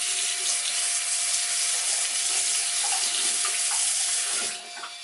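Water runs steadily from a tap into a sink while a spa facial brush head is rinsed, a close, even splashing rush that fades at the end as the flow is shut off.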